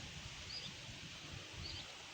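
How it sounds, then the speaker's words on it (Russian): Light wind blows steadily outdoors during an approaching thunderstorm, a faint, even broadband rush with soft rustling and brief distant bird chirps. "Ветер не очень сильный, но он есть и гремит."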